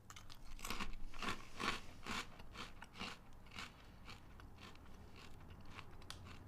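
Sweet Carolina Reaper Cheetos crunch between the teeth in a series of close, crisp bites and chews, rhythmic and fairly quiet, with no talking.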